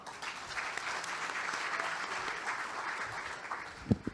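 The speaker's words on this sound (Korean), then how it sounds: "큰 박수 부탁드립니다" Audience at a Korean science and technology forum applauding steadily, a dense continuous patter heard from within the hall, with a couple of sharper claps near the end.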